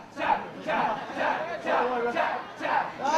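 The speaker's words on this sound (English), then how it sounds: "Some of the crowd chanting." Wrestling crowd in the Orpington Halls chanting in a steady rhythmic pattern, loud massed voices repeating in regular bursts about every half second to second, filling the hall.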